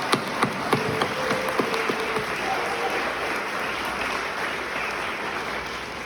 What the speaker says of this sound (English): Let me hear your voices and your applause for all these graduates.